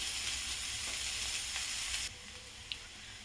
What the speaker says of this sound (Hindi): प्याज को गुलाबी होने तक मैं भून ली हूँ।